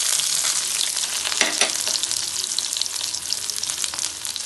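Onions go into hot spiced oil with fenugreek for a Bengali mixed-vegetable dish, giving a close, loud, steady crackling sizzle with brief spattering pops and stirring scrapes.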